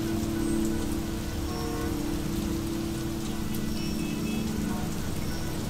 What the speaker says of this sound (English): What could be worse than constant rain in the suffocating gray jungle of concrete and glass?